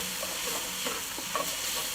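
Vegetables with tomato paste and a dash of cinnamon are stirred in a pot over a braai fire. A soft, steady sizzle runs underneath faint scraping stirs, close by and with no talking.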